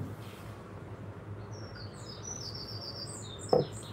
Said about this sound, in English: The birds are chirping.